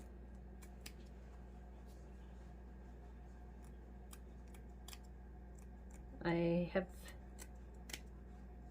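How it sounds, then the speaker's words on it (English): Quiet room tone with a brief snipping of small scissors cutting only the backing of fur, a couple of soft snips close by, while a voice speaks faintly. "I always cut just the backing."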